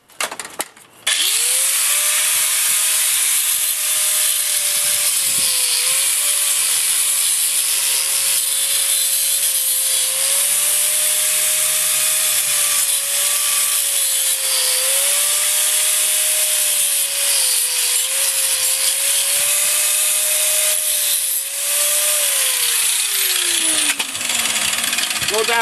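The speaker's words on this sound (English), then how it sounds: "So what I usually do is take my grinder," A power grinder whines steadily for over twenty seconds as it strips foam from the edge of scrap metal, its pitch dipping slightly under load before spinning down at the end.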